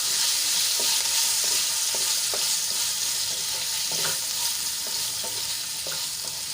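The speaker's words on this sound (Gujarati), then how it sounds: "આપણે જે કાપેલા મરચાં છે એ એડ કરી લઈશું મરચાંને આપણે સારી રીતે તેલમાં મિક્સ કરી લઈશું" Chopped green chillies stir-fry in hot oil with a pinch of asafoetida, giving a loud continuous sizzle broken by regular scraping strokes of a spoon, with no talk.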